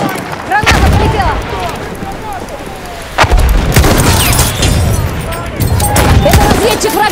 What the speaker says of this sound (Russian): Граната полетела!